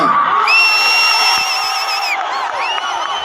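A huge crowd at an outdoor women's conference against alcohol and drugs cheers and whoops loudly, with sustained shouts and high whistling calls rising above a dense roar.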